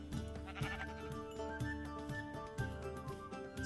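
Minecraft sheep bleating, a close wavering bleat stretched over several seconds, loud and clear with no speech.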